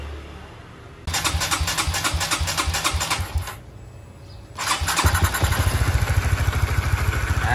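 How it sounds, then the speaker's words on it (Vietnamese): A Honda Winner motorcycle engine, before its rebuild to 165cc, cranks and catches after a second, sputters through a rapid idle, dips briefly, then fires again into a steady, loud, close rattling idle. "Thì mình sẽ nổ máy, tiếng máy cho anh em nghe thử, tiếng mà trước khi làm ha."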